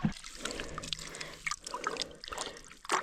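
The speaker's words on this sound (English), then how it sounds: "excess water in the soil coming out" Cold excess water trickles and drips out of freshly turned farm soil in uneven spurts and small splashes, close and fairly quiet, with faint handling noises between the bursts.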